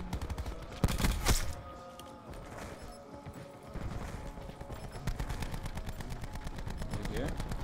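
Gunfire in Black Ops 4 comes as rapid automatic bursts with impact rattles, moderately loud and continuous under game effects, and grows denser toward the end.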